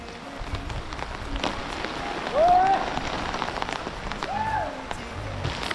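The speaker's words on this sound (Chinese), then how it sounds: "冰雹啊，下冰雹了" A hailstorm with heavy rain pounds down outdoors, a dense, steady roar of patter across the whole stretch, with a voice calling out briefly over it.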